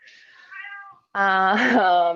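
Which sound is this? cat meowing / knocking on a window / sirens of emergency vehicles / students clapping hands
cat meowing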